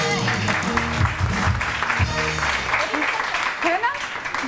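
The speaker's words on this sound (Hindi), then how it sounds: "तो तालियां हो जाए इस बात पे" Studio audience clapping on a Pakistani morning TV show, a steady dense patter of applause running throughout with a host's voice and music mixed over it.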